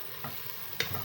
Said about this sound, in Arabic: الناس كنقليو معكم داك الطريفات ديال الدجاج